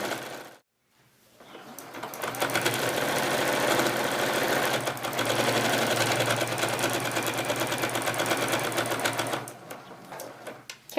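A sewing machine stitches steadily through a thick stack of patchwork fabric layers for a journal cover, a continuous close mechanical whir that pauses briefly near the start, then runs on for several seconds.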